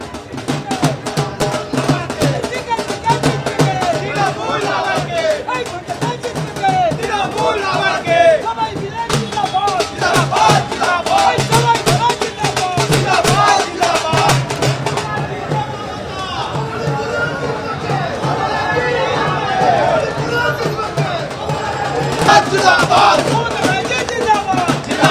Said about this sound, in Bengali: স্লোগান চলছে।